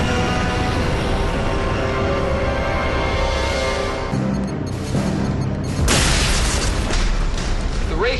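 Wraith ship weapon fire in Stargate Atlantis, a dense continuous roar of explosions and rumbling booms, loud throughout with a sharper blast near the end.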